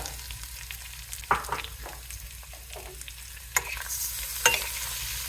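Constant hot-oil sizzle of a sesame-seed tempering for coriander vadi, with a few sharp pops and spatters, the hiss growing brighter toward the end, heard close up without talking.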